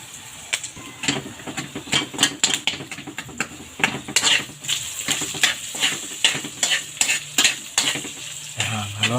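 Pork with garlic and onion sautés in a pan for lome, a loud crackling sizzle broken by rapid, repeated metal scraping and clanking of a spatula stirring, close and continuous.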